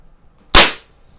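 A single sharp crack from a CO2 air pistol, a Sheridan EB20 or Crosman 2240, fired outdoors, loud and close with a short decaying tail and quiet surroundings before and after.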